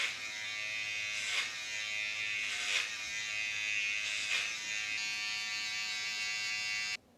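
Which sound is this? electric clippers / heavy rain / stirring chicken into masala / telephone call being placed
electric clippers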